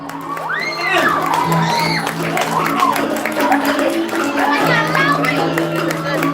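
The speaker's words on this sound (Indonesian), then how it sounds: "Tepuk tangan banyak rame." A lively crowd cheers and shouts, with children's excited whoops and voices rising over continuous noisy chatter and some clapping, at a prembon performance at Pura Jero Agung Bedulu temple in Bali.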